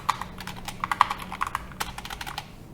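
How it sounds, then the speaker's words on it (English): Quick, uneven clacking of keys on a computer keyboard, bursts of close taps and a few heavier strokes, with nobody speaking. "typing is hard, give me a break"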